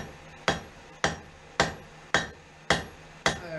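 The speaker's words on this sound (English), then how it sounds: "Got a little bit bigger hammer, man. Shorter work of this." Hammer blows on hot steel while forging a half-moon mezzaluna knife: six sharp, evenly spaced metallic strikes about half a second apart, each ringing briefly over a low steady hum.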